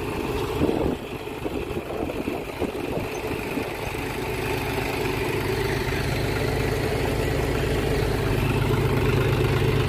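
A John Deere tractor engine idles and chugs steadily nearby during garlic sowing on a farm, a low continuous rumble that grows slightly fuller after the first second.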